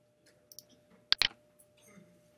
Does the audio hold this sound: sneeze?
no